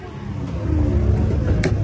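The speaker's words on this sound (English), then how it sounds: "انطلاقه جميله قويه لهذا النيسان وسعيد الشامسي" A Nissan SUV launching hard from the start, a loud close engine roar that rises and swells over under two seconds, with rumbling low end.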